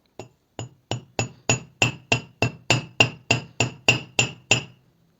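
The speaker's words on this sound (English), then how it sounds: "you could continue doing this hammering so that it would be spreaded more" Fifteen sharp metallic hammer blows flattening wire ring out in a steady, even rhythm, close by and growing slightly louder before stopping.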